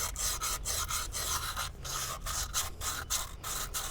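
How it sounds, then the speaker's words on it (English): Sandpaper scrubs rust off the edge of a trailer wheel bearing part in rapid back-and-forth strokes, a close, steady gritty rasp with an even rhythm of about three strokes per second and no talking. "Did get a little sandpaper here, and I'm gonna just kind of clean up this edge right here where that rust had built up"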